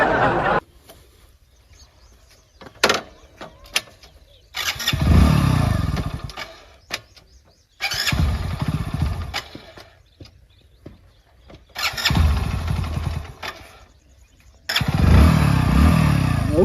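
Hero motorcycle engine starting and then running in repeated loud bursts of revving between quieter gaps, with faint background chatter.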